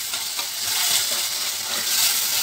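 Peas, green capsicum and onion are tossed in a hot pan, giving a dense, even sizzle with soft stirring scrapes running throughout.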